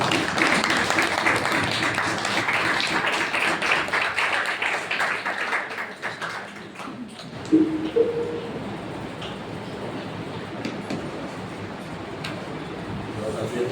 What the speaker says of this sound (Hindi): आइए परमेश्वर के लिए जोरदार तालियां बजाएंगे इस समय।